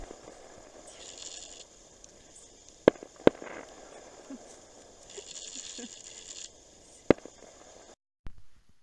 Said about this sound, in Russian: фейерверки отбахали